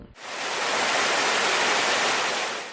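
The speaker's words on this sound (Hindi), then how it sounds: "गुनगुनाते झरने और शोर मचाती आबशारें इस वादी की जान है" Roaring waterfalls and murmuring streams in a valley make a loud, steady broadband rush of falling water that starts abruptly and holds constant throughout, with no voices.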